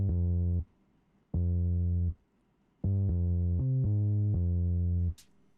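Processed bass line from an old-school sampled hip-hop beat made in FL Studio, run through a fattening emulator: deep, sustained harmonic notes in three loud phrases separated by short gaps, played alone.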